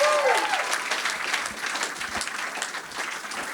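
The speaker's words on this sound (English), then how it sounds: "Ladies and gentlemen, please, a big round of applause for these individuals." Applause from an audience at a Baton Rouge Swim-In 60th anniversary commemoration, dense and steady throughout, with a brief voice at the start.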